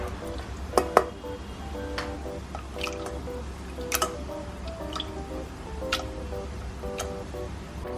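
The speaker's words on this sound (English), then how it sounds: "I've added my boiled veggies to my masala." Boiled vegetables going into a pan of masala for a home-cooked Indian meal, giving soft wet squishes and scattered drips and ticks over a low steady background hum, with a couple of louder splats early on.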